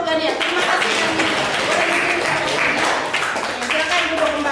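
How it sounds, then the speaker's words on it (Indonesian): Classroom applause for a student, a dense burst of clapping from many hands filling the room steadily for several seconds, with a teacher's voice heard over it. "Tepuk tangan untuk Gania"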